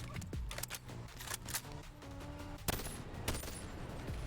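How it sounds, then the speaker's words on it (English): Burst-fire gunfire in Bonelab, a VR shooter, cracking out in quick clusters of shots that repeat irregularly over a busy game soundscape. "The power of burst fire."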